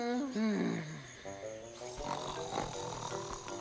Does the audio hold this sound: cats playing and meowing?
no